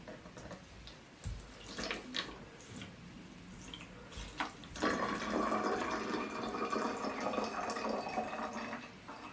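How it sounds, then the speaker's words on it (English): Vinegar is poured into a bottle with a steady liquid trickle that starts after a few faint clicks and handling sounds and continues close by until the end. "step 1 is to carefully pour the vinegar into the bottle"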